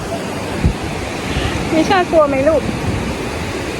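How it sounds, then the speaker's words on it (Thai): Surf breaking on a beach at Prachuap, a broad steady wash under a voice speaking to a small child. "ตอนแรกมิชากลัวเสียงคลื่น"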